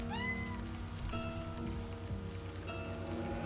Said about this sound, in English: I'm gonna be petting the cat here